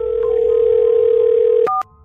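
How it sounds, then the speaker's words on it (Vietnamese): A telephone dial tone hums loud and steady, then cuts off with a couple of short dialing beeps near the end. "vội vã bấm một số điện thoại"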